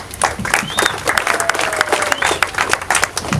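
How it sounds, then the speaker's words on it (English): Audience applause fills a boxing press conference for the Ortiz vs Berto II fight, a steady wash of clapping from a crowd with faint voices and whistles mixed in throughout. "Round of applause, ladies and gentlemen, for Mr. Tom Brown"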